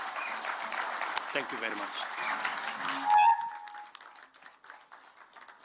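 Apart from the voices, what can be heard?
applause for the President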